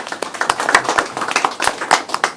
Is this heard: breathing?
no